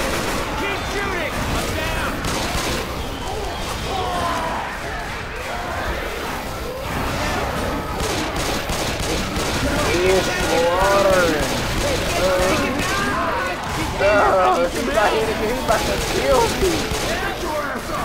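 Heavy gunfire rakes the Tank in Left 4 Dead 2, with dense, overlapping bursts of automatic and shotgun fire, loud and relentless, mixed with shouting voices and the monster's growls through most of the stretch.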